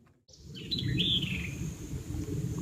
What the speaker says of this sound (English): An interesting sounding bird up there.